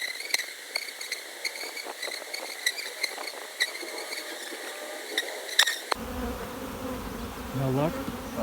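Honeybees buzz around an open beehive during hive splitting, a steady close drone with scattered sharper passes as individual bees fly near, and a low thud or handling noise later.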